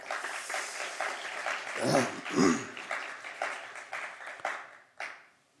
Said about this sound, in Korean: 여러분 환영의 박수 한번 하겠습니다